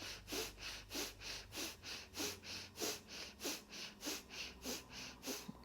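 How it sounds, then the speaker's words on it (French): Breath of fire yoga breathing: a quick, steady run of about a dozen sharp, forceful nasal exhalations, close and rhythmic, with no talk over it. "Encore une fois, la respiration de feu."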